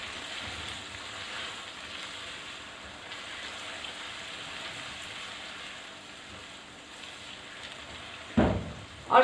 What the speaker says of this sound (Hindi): इसको भी हम थोड़ा सौते करेंगे।